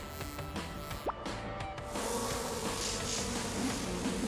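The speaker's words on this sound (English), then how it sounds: "Where did all those mosquitoes come from?" A swarm of mosquitoes whines with a thin, wavering buzz that hangs over a faint background, with a soft plop near the start and the buzzing thickening toward the end.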